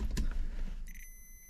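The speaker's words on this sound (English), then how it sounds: "I don't know if you can hear that, but it beeps." A multimeter's continuity beep sounds as its probes touch a car radio part from a '91 Bronco: a single steady electronic tone sustained for the last half-second, faint and alone after some handling noise.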